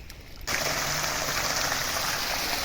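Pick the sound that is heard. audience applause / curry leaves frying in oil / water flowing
water flowing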